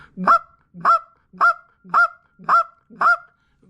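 Rapid Canada goose calling blown on a short reed call: six sharp, evenly spaced honking notes, loud and close, one about every half second with no other sound between them.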